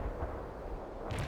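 Distant artillery and gunfire rumble in a brief, low, muffled burst of booms in the video game World in Conflict, heard faintly with no talking.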